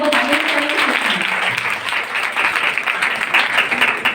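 An audience at a women's college oath-taking ceremony breaks into sustained applause, a dense, even wash of many hands clapping at close range for several seconds, with a speaking voice faintly under it at the start.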